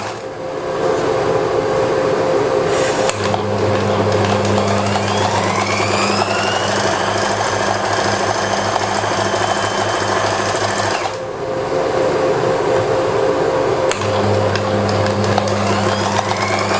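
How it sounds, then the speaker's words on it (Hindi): Loud, steady whir of a sewing machine stitching a shirt sleeve closed along marked lines, running continuously with a short pause midway and a low motor hum throughout. "अब बाजू को आपने बंद करके सिलाई लगा लेनी है"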